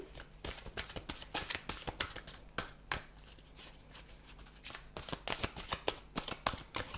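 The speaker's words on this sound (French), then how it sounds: "on va demander une deuxième carte au tarot" A deck of tarot cards being shuffled by hand, giving a rapid run of crisp riffling and slapping bursts that continues close and clear for several seconds.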